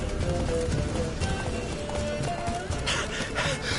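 Rapid hooves clatter under dense game sound effects and music in The Witcher 3, with a horse neighing partway through; a voice briefly speaks.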